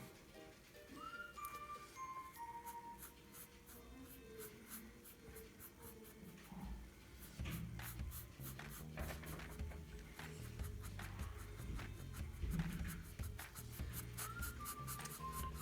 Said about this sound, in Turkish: Mor rengimizi aldık. Başlayalım dıştan boyamaya.